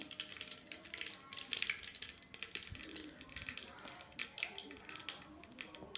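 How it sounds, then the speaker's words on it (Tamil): Mustard seeds crackle and splutter in hot coconut oil for a South Indian greens dish, a dense run of quick pops and sizzling spits held close and fairly steady. "நல்லா அது பொரிஞ்சு வரட்டும். நல்லா கடுகு பொரிஞ்சிடணும்."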